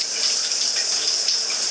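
Water from a shower runs in a continuous bright hiss and spatter, close and fairly loud, with no voices over it.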